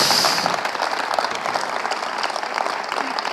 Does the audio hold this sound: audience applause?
yes